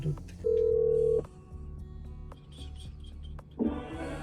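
A phone dialing a restaurant to place a to-go order, heard as a long steady tone, scattered short key presses, and another tone burst near the end, close by with faint background voices.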